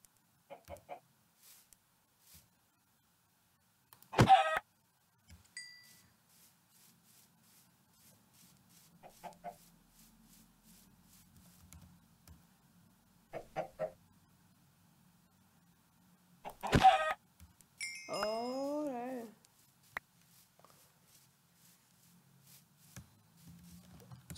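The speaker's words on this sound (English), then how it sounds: "Let's slay this chicken." Chickens cluck and squawk in a crafting video game, a few short bursts spaced across a quiet stretch, with one louder warbling cry near the end.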